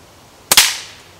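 A survival slingshot shot from about 20 feet away gives two sharp, loud snaps in quick succession, then a short ringing decay, with no talk in between.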